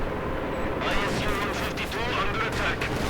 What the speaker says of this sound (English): Bit of light artillery though going in